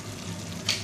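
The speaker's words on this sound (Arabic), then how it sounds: "هي بدات كتهبط الخضره ديالنا وكتطلق الماء ديالها" Vegetables soften in a pot for vegetable soup with chicken breast, sizzling quietly as they release their water, with a steady low simmer and a brief brighter splash of liquid.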